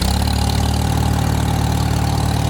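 A Farmall H tractor engine runs steadily at close range, a loud, even low chugging idle that holds without a break and with no voices.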